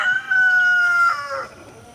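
A backyard rooster crows once nearby, a loud drawn-out call that holds steady for about a second before breaking off and fading, with nothing else competing.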